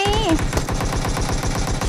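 Rapid automatic gunfire in the video game PUBG Mobile in a fast, steady rhythm, heavy and close, with a brief voice at the start.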